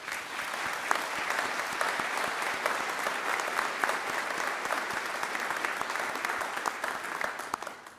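Sustained applause from a large audience at a university graduation ceremony for a School of Nursing, thanking the graduates' supporters; dense, even clapping holds steady for about eight seconds without a break.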